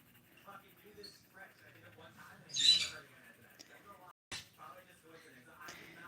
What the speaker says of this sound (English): My birds are trying so hard to get my attention.